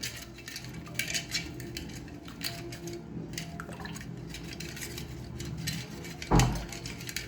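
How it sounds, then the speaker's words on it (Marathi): A spoon clinks and scrapes steadily against a vessel while stirring sugar into buttermilk for lassi, a continuous close clatter with one louder knock near the end. "आता मिक्स करून घेते मी साखर मिक्स व्हायला"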